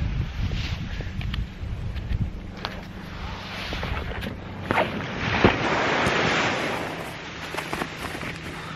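Surf breaking on a beach near a river mouth, a steady wash of waves with gusts of wind buffeting the microphone, rising into a louder surge partway through, with no voices.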